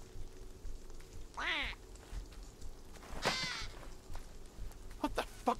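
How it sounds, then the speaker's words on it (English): A duck in the video game We Happy Few quacks a few times in short, nasal calls, with spaced bursts over a quiet in-game background. "It was a duck."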